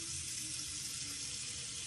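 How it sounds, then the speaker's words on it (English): Tap water runs steadily into a big container while sprouts are being prepared. The hissing rush is constant and close, with no pauses and no voices. "we're just going to put water in it"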